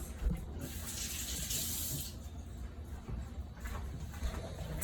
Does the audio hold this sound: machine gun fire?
no